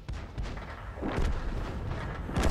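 SU-122A tank gun firing in a video game: a heavy, booming blast about a second in, then another sharp shot near the end, over a steady rumbling background with no voices.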